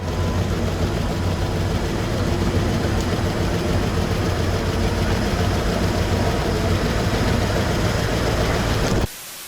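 Several all-terrain vehicles, including a GAZ-66 Shishiga and a BMP infantry fighting vehicle, drive under their own power through a swamp near St Petersburg, their steady loud engine drone filling the scene before cutting off abruptly near the end.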